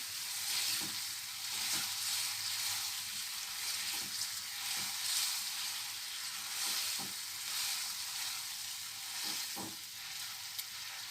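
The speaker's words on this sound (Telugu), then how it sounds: "కొంచెం హైలో పెట్టేసుకొని ఫ్రై చేసుకుందాం" Milk and coconut barfi mixture fries over high heat in a pan with a steady, quiet sizzle, while a spoon scrapes and stirs it in periodic soft strokes.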